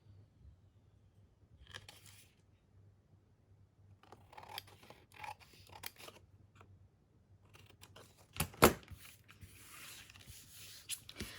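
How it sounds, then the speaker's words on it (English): Scissors snipping the edges of paper botanical craft tags, with soft, scattered cuts and faint paper rustling in a quiet room, one sharper snip standing out partway through. "So I'm just going to go through and just trim those off."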